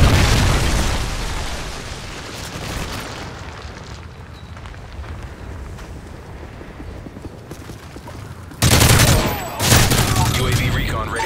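A Predator missile explosion in a Call of Duty game lands as a loud boom, then crackling debris and rumble fade out. A second heavy blast hits near the end.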